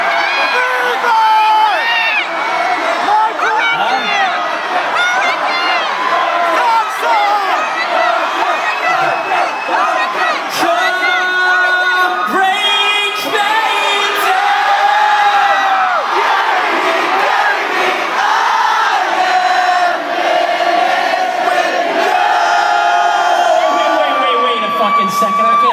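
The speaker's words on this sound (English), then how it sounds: "You keep yelling really loudly." A concert audience yells and cheers loudly and continuously at a live show, a dense roar of shouts and whoops close around, with voices talking over it.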